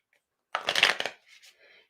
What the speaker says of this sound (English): I'm going to shuffle this deck here.